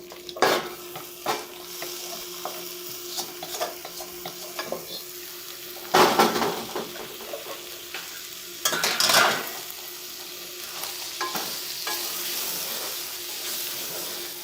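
Minced mutton fries with fried onions in a pan while a spoon stirs it, giving a soft steady sizzle broken by several louder scraping and clattering stirs against the pan.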